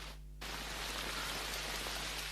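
Steady rain pours down in an anime scene, a dense even hiss that starts abruptly after a brief quiet moment and continues without talk.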